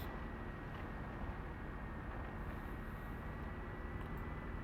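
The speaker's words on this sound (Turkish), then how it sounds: "karşıdan bir helikopter gidiyor şu an bizden" A helicopter in the video game ARMA 3 flies past at a distance, a steady rotor and engine drone that holds at an even level across the whole stretch, with no talk over it.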